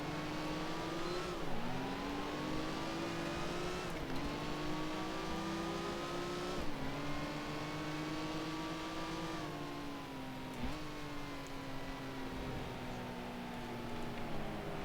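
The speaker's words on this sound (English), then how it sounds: "And I can just use the engine to slow me down." A 1955 Formula One car engine in the Grand Prix Legends racing game drones steadily and loud, its pitch falling as the engine brakes into corners and rising again after each shift, continuous throughout.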